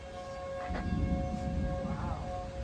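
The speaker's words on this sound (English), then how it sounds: "We got tornado sirens going off here." Tornado warning sirens sound in northern Rock County, a steady wailing tone carrying from a distance across the whole stretch, with no talking.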